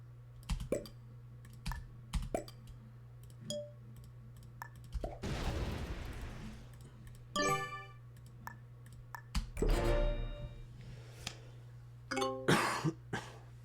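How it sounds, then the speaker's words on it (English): A couple of rough coughs, one longer and one shorter, amid steady light clicking and tapping like keyboard typing, with a low hum underneath. "I did cough there"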